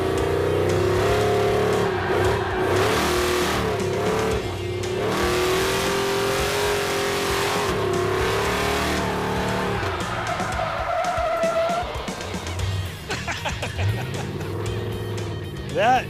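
A Chevy muscle truck with a new 4-link suspension accelerating hard around cones, loud close engine roar with revving and tire squeal, people talking over it.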